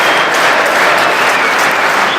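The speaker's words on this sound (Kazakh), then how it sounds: "Мың шапалақ." A large audience at a Jaidarman comedy league round of sixteen in 2015 applauds, a loud, dense and unbroken wash of clapping that lasts the whole moment.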